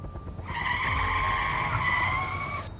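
Tyres screech in a long, sustained squeal, loud and steady, with engine noise rumbling underneath before it stops.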